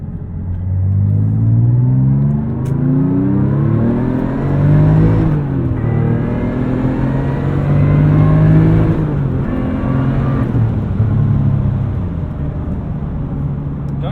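A 600hp 2002 Porsche 996 911 Turbo engine revs and accelerates through several gears, the pitch climbing and dropping with each shift, loud and close from inside the car, recorded binaurally.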